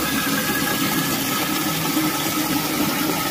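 Water gushes out under pressure from the outlet of a leaking concrete water tank, a loud steady broadband rush that continues without break, close by and with no talking over it.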